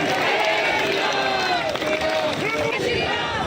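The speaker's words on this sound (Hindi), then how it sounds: "जोरदार तालियां बजा के" A crowd at a political rally in India applauds and cheers loudly, with voices mixed into the steady wash of clapping.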